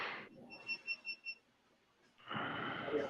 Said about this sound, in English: Hold on, that was my alarm.